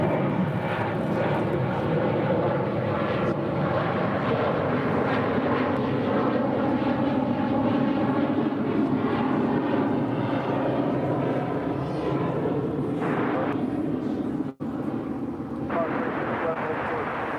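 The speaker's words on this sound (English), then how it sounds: "It's a 737-800, touching down on 36 left." A Boeing 737-800 airliner roars loudly and continuously while touching down on runway 36 left at an airport, its engine noise dominant throughout with people talking over it.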